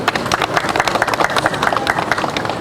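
A crowd at a public gathering in Tandale, Dar es Salaam, breaks into loud, sustained applause, with dense overlapping claps running steadily throughout and a few cheers mixed in.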